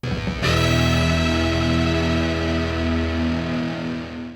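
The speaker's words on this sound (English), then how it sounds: "the Ripped Speaker Fuzz from Electro Harmonics. Yet another nano-sized fuzz pedal." An electric guitar through an Electro-Harmonix Ripped Speaker Fuzz nano pedal strikes one thick, gritty, distorted chord that rings out loud and sustained, slowly decaying over about four seconds.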